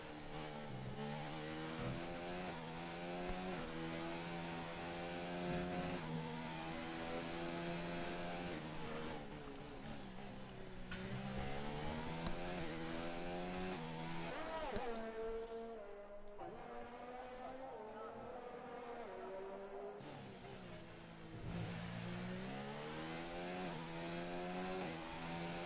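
Onboard engine of a Red Bull race car in a racing video game, heard over a lap at Australia: a loud, steady high-revving whine that climbs and drops with each gear change and corner, running continuously with no talk.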